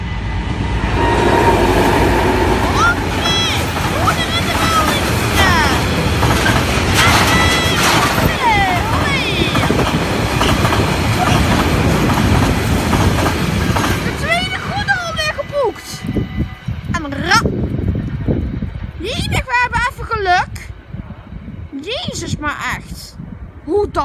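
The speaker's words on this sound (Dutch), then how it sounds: "Daar komt de goederen, pap." A freight train passes on railway tracks in Nieuwstadt with a loud, close, continuous rumble and rattle of wagons, then fades. Voices talk over it toward the end.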